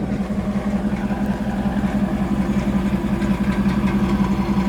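A 30-year-old Chevrolet Camaro project car idles after a jump start, its engine holding a low, steady rumble with even pulsing throughout, heard alone without talk.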